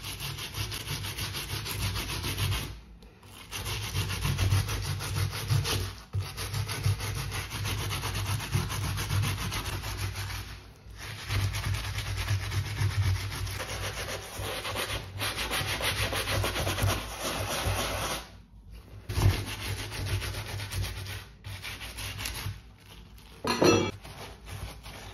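A brush scrubs hard along the sides of white Nike TN sneakers in long, dense bristly strokes, loud and close, broken by a few brief pauses and a small knock near the end, with no talk.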